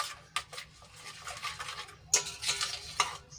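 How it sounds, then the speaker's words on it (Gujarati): Soap being stirred into a small amount of water to dissolve it for a homemade, chemical-free dishwashing cleaner: soft scraping and swishing strokes come close and fairly quiet, with a few sharper clinks, and no talking. "તો આ રીતે હલાવીને આપણે સાબુને સારી રીતે ઓગાળી લઈશું"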